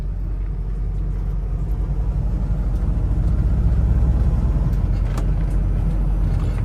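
Heavy road traffic on the approach to Toronto heard from inside a truck cab, a continuous deep engine and road rumble with a faint swell of passing vehicles midway.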